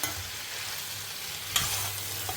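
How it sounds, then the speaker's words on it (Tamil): Raw banana sautéing in coconut oil gives a steady close sizzle with a sharp stir or scrape knock at the midpoint, running alone without voices. "இது இப்போ இன்னும் கொஞ்சம் வதங்கி அதாவது வாழைக்காய் கொஞ்சம் வேகட்டும்"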